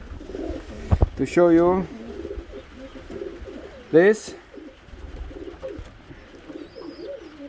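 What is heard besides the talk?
pigeons cooing in a sport pigeon loft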